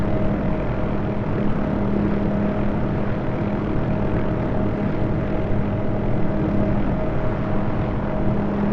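Hughes OH-6A light helicopter engine in the DCS flight simulator, a steady close turbine and rotor drone with a constant hum, running unbroken and without talk while the aircraft hovers near a helipad.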